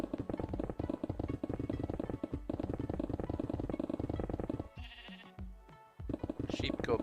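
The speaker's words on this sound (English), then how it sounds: "Feels weird hearing a sheep go by down there." A sheep bleats in Minecraft amid a dense, continuous game soundscape with a voice speaking over it; the bleat is brief and sits under the busy mix rather than standing out clearly.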